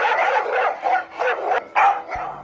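A dog barks in a children's phonics song, giving a quick series of about five close, clear barks with no talk over them.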